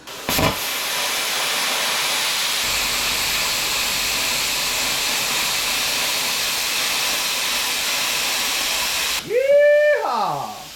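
A cheap plasma cutter slices through metal with a loud, steady hiss that runs unbroken for about nine seconds before cutting off abruptly, followed by a brief ringing tone as it stops.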